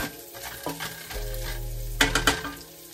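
Garlic sautéing in a pan for Filipino-style spaghetti, a close sizzle with a few sharp scraping knocks of the stirring utensil against the pan midway, no talking.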